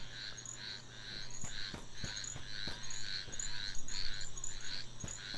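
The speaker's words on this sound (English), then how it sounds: "I'm hearing frogs and stuff." Night ambience in the video game Sword and Fairy 7: frogs croaking in repeated pulsing bursts over a steady insect drone, with sharp clicks scattered throughout, fairly quiet and continuous.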